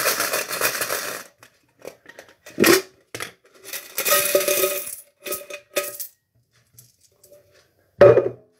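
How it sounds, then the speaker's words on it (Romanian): A few euro coins are dropped into a container, giving several separate metallic clinks and jingles spread out with quiet gaps between them. "Am băgat pe aici câțiva mărunțiși"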